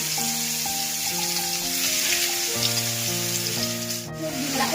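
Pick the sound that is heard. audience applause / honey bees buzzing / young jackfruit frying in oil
young jackfruit frying in oil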